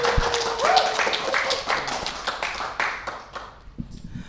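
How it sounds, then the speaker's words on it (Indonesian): A studio audience on an Indonesian talk show claps to welcome a book author as a guest, a busy patter of hands that grows quieter and thins out toward the end. "Tepuk tangan."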